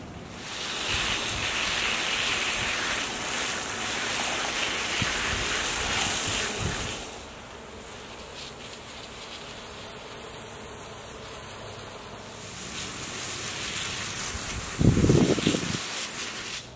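A garden bed being watered to soak in fertilizer, a steady hissing spray of water running for several seconds, then easing into a quieter stretch, with a brief louder splash near the end.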